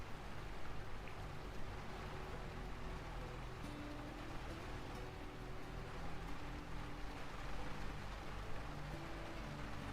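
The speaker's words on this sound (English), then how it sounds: "I'll just give you a second to enjoy this beautiful music and the rain sounds." Steady rain falls in the video game Lightyear Frontier, a dense continuous patter under soft ambient music, unbroken and even for the whole stretch.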